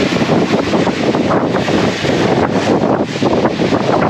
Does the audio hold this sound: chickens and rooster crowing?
no